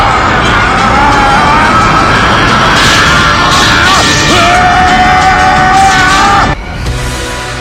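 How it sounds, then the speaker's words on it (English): The animated Dragon Ball character Vegeta lets out a long, loud, strained scream that rises in pitch, layered over energy and crash effects, then cuts off sharply near the end. "until Vegeta went and screamed"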